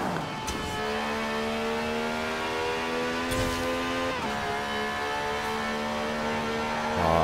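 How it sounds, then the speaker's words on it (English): A steady, high engine drone of an Aston Martin Vulcan in Forza Horizon 4 holds a sustained pitch, shifting gears twice with brief dips before climbing again, loud and close with a faint whistle on top. "And I love the turbo whistle."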